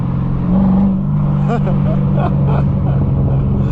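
A 2006 Chevrolet Corvette convertible with a six-speed manual gearbox, its engine humming and rising while driving, heard from inside the car under someone talking.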